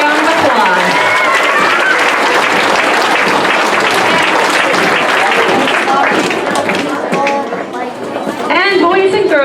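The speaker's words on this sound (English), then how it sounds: "Let's give Aiden another round of applause." A school awards-ceremony audience claps loudly and continuously for a student, with cheering voices and chatter mixed into the dense applause throughout.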